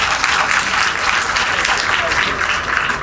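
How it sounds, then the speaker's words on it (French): Audience at a university debate match claps loudly and continuously, a thick, close burst of many hands sustained at full strength for the whole stretch. "Mesdames et messieurs, veuillez applaudir pour nos débatteurs"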